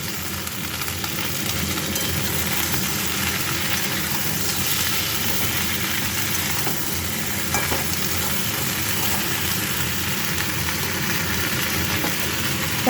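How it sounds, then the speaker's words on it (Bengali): Vegetables and Malabar spinach fry in a pan with a loud, continuous sizzle and crackle that holds steady throughout, close by and without voices. "তো চলো এগুলো ভাজা হোক।"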